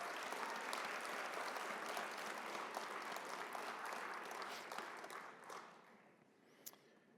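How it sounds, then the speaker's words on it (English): A graduation audience applauds diploma graduates in counseling therapy with dense, sustained clapping that sounds somewhat distant. The applause fades out toward the end. "Please give your applause to the Counseling Therapist Diploma graduates from March"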